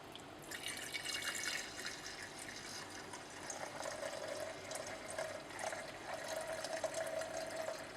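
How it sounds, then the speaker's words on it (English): Warm manganese(III) acetate mixture poured into a large beaker in a lab, a faint trickling, splashing pour with thin liquid drips and no talking. "While the mixture was still quite warm, we poured it into a large beaker."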